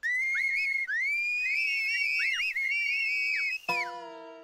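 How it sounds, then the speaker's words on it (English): A loud, shrill human whistle with sliding, warbling pitch runs continuously for several seconds, then shifts abruptly to a steady, buzzy tone near the end. "that's how you do the super whistle"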